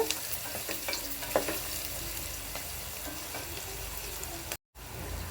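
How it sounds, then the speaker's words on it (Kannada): Five green chillies frying in a pan for coconut milk rice, a steady close sizzle with occasional stirring clicks and pops, briefly cutting out near the end. "ಐದು ಹಸಿಮೆಣ್ಸಿನ್ಕಾಯಿ ತೊಗೊಂಡಿದ್ದೀನಿ ಅದು ಫ್ರೈ ಮಾಡಬೇಕು"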